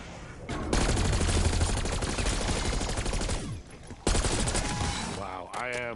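A grenade launcher fires in Call of Duty Black Ops 6 amid dense, loud, continuous explosive bursts with a brief lull in the middle, followed by a short voice at the end.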